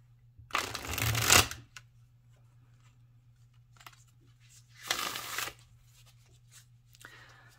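Tarot cards are shuffled in two quick riffling bursts, each about a second long, close and crisp against a quiet background, with a faint soft voice between them.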